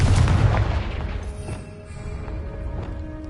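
A fire spell explodes in Hogwarts Legacy with a deep booming blast that rumbles and then slowly fades, loud and close with no talk over it.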